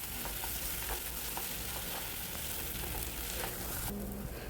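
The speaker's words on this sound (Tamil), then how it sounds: "ஒரு கொத்து கருவேப்பிலையை சேர்த்து நல்லா வதக்கிக்கோங்க" A sprig of curry leaves sautéing in a pan with softened onion for an aubergine and potato kara kuzhambu, a continuous busy sizzle and crackle with faint stirring knocks, ending in a short quieter stretch with a low clunk.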